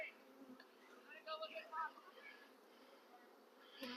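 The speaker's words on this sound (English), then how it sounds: "there's plenty of bees in here." Soft, uneven buzzing of many honey bees close by in a hive, wavering in pitch, with faint handling noises now and then.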